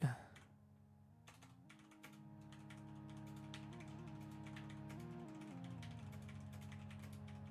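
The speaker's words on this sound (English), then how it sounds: "All right, I'm typing." Computer keyboard typing heard as a run of quick, light clicks layered over a steady humming background drone, fairly faint throughout.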